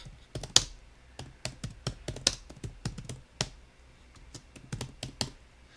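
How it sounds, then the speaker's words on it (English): Steady bursts of computer-keyboard typing, crisp close key clicks in irregular quick runs with brief pauses, heard alone without any voices. "I'm actually going to type it"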